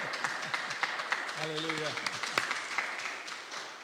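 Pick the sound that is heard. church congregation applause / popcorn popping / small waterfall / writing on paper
church congregation applause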